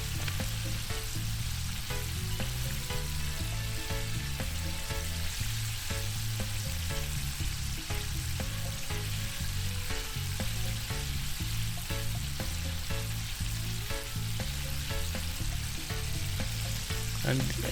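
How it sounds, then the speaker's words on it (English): Chicken wings for hot and spicy homestyle fried wings deep fry in oil on high heat, a continuous close crackling sizzle with busy popping bubbles throughout. "And these are wings, they fry really easy, so I keep them on high heat"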